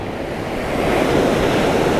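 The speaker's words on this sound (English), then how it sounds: "as you might be able to hear or might be able to see behind me, the swells died right down as well" Sea swell breaking on the beach at Kilnsea on the East Yorkshire coast: a continuous wash of surf that rises slightly in loudness, mixed with wind rush, close and steady, with no voices.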